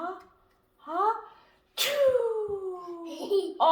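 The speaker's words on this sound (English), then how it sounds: "Puppet sneezed all the germs out, so now the germs are everywhere" A person voicing a puppet's sneeze in a playful demonstration about germs: a short lead-in voice, then a loud, close "achoo" burst that trails into a long, drawn-out vocal sound, with more voice at the end.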